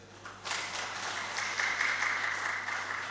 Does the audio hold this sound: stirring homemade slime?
no